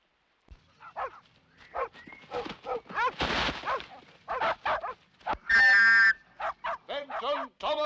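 Dogs in a 1964 crime thriller scene bark in short close bursts and whimper between them, with one louder, longer yelp near the end, the sounds coming in an irregular rhythm.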